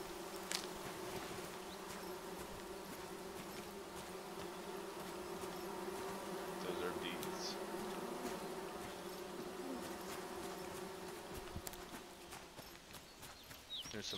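Bees buzzing around a tree stump in a forest video game, a faint steady drone running throughout with soft footstep-like taps layered over it.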